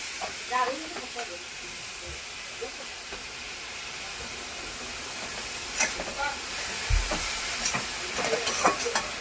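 Raw mango and jaggery murabba being stirred in a pan gives a steady hissing simmer, with soft scraping strokes and a few louder knocks near the end.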